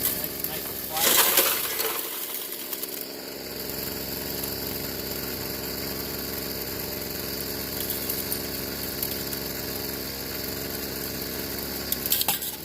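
The blower engine on a Royal Explorer mini gold drywasher idles steadily, a constant mid-pitched hum with light vibration that runs unbroken. A brief louder clatter comes near the start.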